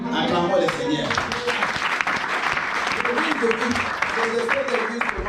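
A church congregation applauds during a French-language worship service, a dense, steady wash of clapping that fills the whole stretch, with voices mixed in underneath.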